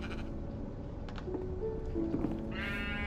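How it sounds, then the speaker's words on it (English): Sheep bleating in the video game Minecraft as a pink sheep wanders near, a few wavering cries rising over a steady hum of background game sound. "Oh, we got a pink sheep."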